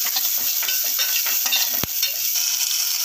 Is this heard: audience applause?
no